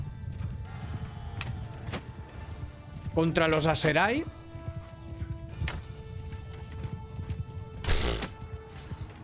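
Horses thunder in a continuous patter of galloping hooves during a battle in Mount and Blade 2 Bannerlord, with one loud whinny midway. Someone talks over the hoofbeats.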